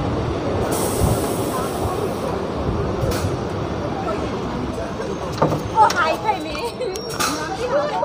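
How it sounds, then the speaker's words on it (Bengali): A train pulls into Rasulpur station on the Bandel–Bardhaman line, a steady rumble of wheels and carriages with rising squeals and clanks toward the end as it slows to a halt, with voices mixed in. "সো গাইস আমাদের ট্রেন ওখানে এসে হল্ট করলো রসুলপুর"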